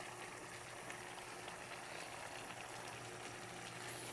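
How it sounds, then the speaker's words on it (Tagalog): A pot of snail broth with water spinach is just starting to boil, giving a soft, steady bubbling hiss at low volume with no talking. "Ayan, nagsisimula pa lang kumulo."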